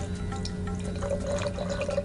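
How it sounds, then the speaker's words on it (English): Wine trickles through an aerator set over a glass, making a steady, quiet liquid pour with a faint airy whistle running through it, close and continuous. "this is put over glass, and the wine is poured into and through it,"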